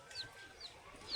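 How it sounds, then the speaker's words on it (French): Hens clucking on a farm in Mondulkiri, Cambodia, with a few short, faint high calls spread through a brief outdoor moment, set against low ambient background noise. "Bref là il y a des cochons, des poules."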